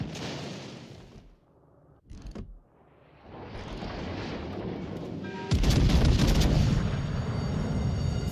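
Warship gunfire in the World of Warships Legends video game: a burst of shots, then a rumbling lull, then heavier sustained booming salvos toward the end, with no speech.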